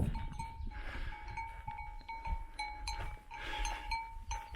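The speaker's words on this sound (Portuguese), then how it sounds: "Mais ovelhas pelo caminho." Sheep graze along the Lycian Way hiking trail in Turkey, bleating at moderate distance with faint clinking bells and soft outdoor ambience around them.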